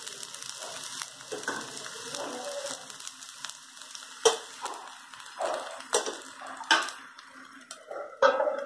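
Dodka thalipeeth, a flatbread of ridge gourd, roasts in a little oil on a pan over medium heat. A soft, steady sizzle runs underneath, broken by several sharp metallic clinks and scrapes. No one speaks.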